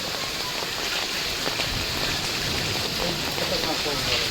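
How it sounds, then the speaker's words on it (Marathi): Heavy first rain of the season pours down in Baramati, a loud, dense and unbroken hiss of drops hitting the ground and surfaces nearby for the whole stretch. "पाऊस लय पडला जबरदस्त."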